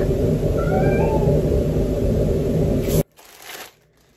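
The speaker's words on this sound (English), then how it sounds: "Is that my cat crying?" A cat meows a couple of times over a loud low rumble, then the rumble cuts out abruptly, leaving a brief shuffling rustle.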